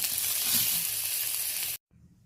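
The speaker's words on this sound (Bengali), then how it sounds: "এই দেখুন বন্ধুরা সব টমেটোকে এইভাবে ভেজে নিয়েছি" Green tomatoes frying in a pan give a loud, steady sizzle and hiss that cuts off abruptly, leaving a faint background hum.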